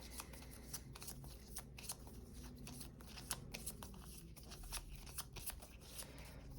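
Playing cards shuffled and dealt during a Marvel Champions card game session, a steady run of quick crisp riffles and flicks at close range, soft and continuous with no talk over it.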